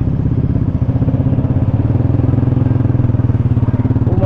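A motorcycle engine roars loud and close with a fast, throbbing rumble that holds steady throughout.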